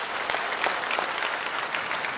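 Sustained, dense applause fills the launch control center at Jiuquan Satellite Launch Center after the successful Shenzhou 20 crewed launch, steady and even throughout, heard at a moderate distance with no talking.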